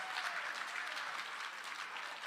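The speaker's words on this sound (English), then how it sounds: "Give yourselves a round of applause" An audience at a keynote event applauding, a dense steady wash of many hands clapping with no breaks, heard from a distance and fairly faint.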